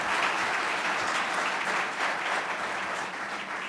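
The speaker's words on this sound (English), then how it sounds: "Ladies and gentlemen, a round of applause for my esteemed panelists." An audience at a World Economic Forum panel debate in Addis Ababa gives the panelists a steady, full round of applause that holds evenly before tapering slightly at the end.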